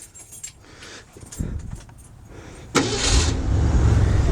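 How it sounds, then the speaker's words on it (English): Keys jingle, then the V8 engine of a 1936 Mercedes 544K replica cranks and catches, settling into a deep, rumbling idle with a slightly uneven lope in the exhaust, close and loud. "It's kind of got a nice little lope in the exhaust."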